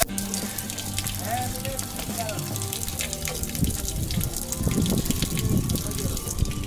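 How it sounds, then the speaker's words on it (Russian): Water gushes steadily from an extra water tank on an overland vehicle during a breakdown in southern Africa, a continuous splashing rush with drips, under a constant noisy background. "Мы снова сливаем воду, потому что бак с водой дополнительный опять на грани срыва"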